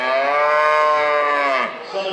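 A heifer gives one long, loud, drawn-out moo at a junior livestock show, close and clear, tapering off at the end.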